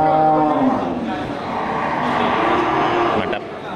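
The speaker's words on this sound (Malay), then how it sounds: "Ini jenis sapi Brahman Bless ya. Bersilangan dengan sapi semental." Brahman cross cattle moo loudly and close by in long, drawn-out calls that overlap one another, with farmyard background noise underneath.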